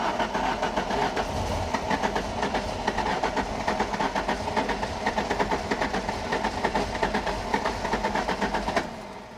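Nissan Pulsar engine cranking without starting, a fast steady chugging of the starter churning for about nine seconds before cutting off.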